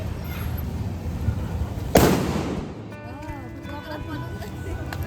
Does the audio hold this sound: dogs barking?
no